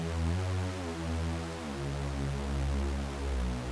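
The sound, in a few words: Reese bass synth patch played in Serum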